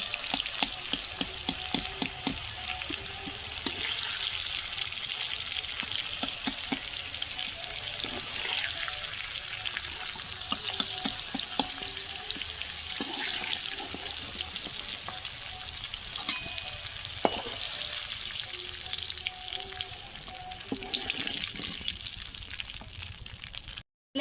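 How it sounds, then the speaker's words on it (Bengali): Potatoes and beans fry in hot oil in a home kitchen pan, giving a steady broadband sizzle throughout, with occasional clinks and scrapes of a spatula stirring. No one speaks. "আলু আর বিনস ভেজে নিয়েছি তুলে নেব"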